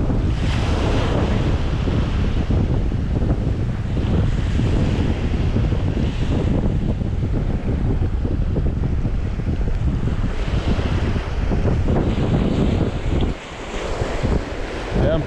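Wind gusting steadily across a calm seashore during ultralight sea bass fishing, loud and continuous buffeting of the microphone over soft surf and lapping waves, with a brief lull near the end.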